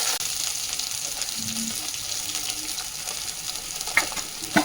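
Ginger paste and asafoetida fry in a pan while being stirred, giving a steady low sizzle with faint scraping and a couple of sharper clinks near the end.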